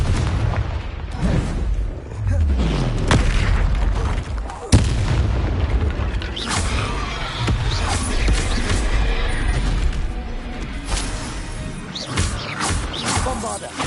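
Bombarda and Confringo spell explosions in the video game Hogwarts Legacy, a string of loud booms, crashes and crackling blasts at close range, with a voice calling out between them.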